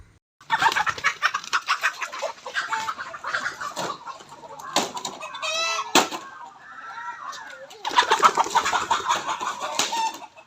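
Chickens cluck and squawk in a coop in busy, overlapping bursts, loud and close, with a short quieter stretch before a fresh round of clucking near the end.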